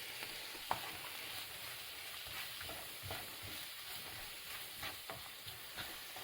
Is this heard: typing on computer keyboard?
no